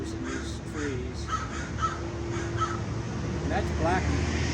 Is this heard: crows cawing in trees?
yes